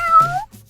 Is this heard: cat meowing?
yes